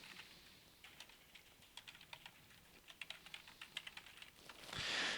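Rapid key taps on a computer keyboard as a file name is typed, a close, steady run of light clicks that thickens toward the end, with no talking.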